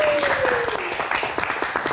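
Studio audience clapping for Bang Miing at a live Heroes' Day talk show, a steady burst of applause running the whole moment beneath a sliding musical tone.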